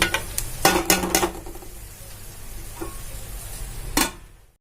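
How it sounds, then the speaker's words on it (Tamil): Chili frying in a pan for a Tamil chicken salna, with a spoon clattering against the metal in quick scrapes, a quieter stretch of soft sizzling, then one more sharp scrape. "சில்லி ஆட் பண்ணிட்டு நல்லா ஃப்ரை ஆகட்டும்."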